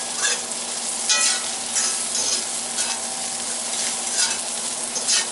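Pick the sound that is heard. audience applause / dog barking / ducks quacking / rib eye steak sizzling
rib eye steak sizzling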